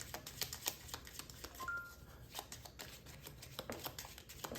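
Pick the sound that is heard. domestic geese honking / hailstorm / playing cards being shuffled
playing cards being shuffled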